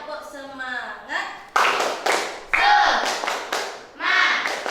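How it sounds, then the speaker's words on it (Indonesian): A school class does a rhythmic cheer-clap together, sharp patterned claps in quick groups alternating with children's and a teacher's chanting voices in a classroom, close and lively. "Tepuk semangat."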